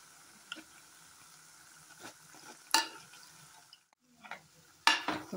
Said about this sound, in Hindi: सारे पकौड़ों को हमने पलट लिए, दूसरी तरफ भी पका लेते अच्छे से